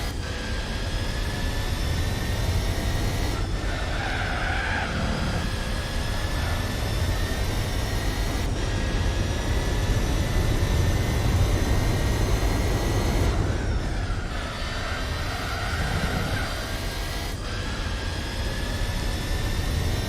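A racing car engine in Gran Turismo 4 drones steadily with a laggy, turbo-delayed character, its tone shifting at a few gear changes over a continuous moderate roar, with no talk.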